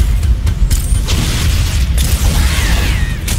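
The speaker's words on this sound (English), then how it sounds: "Just chuck grenades at everything." Grenades from the original Halo game detonate in a rapid string of heavy booms and pops, loud and close, overlapping with clanking mechanical battle noise.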